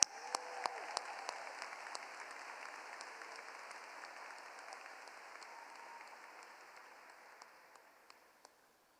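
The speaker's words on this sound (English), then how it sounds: "Let's give Emily and all of our 2 award winners a huge round of applause." Faint, distant applause for award winners at a school graduation ceremony, a soft sustained patter with a few sharper claps standing out, slowly fading.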